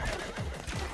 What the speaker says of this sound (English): Who's riding a horse?